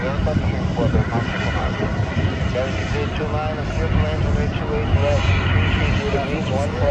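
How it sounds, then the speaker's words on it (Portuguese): An Iberia Airbus A330 arriving from Madrid lands at Guarulhos airport, its engines giving a loud, steady roar that fills the whole stretch without a break. "Vamos pegar esse pouso aí, pessoal, aqui no aeroporto de Guarulhos, o Império A330 aí, ó."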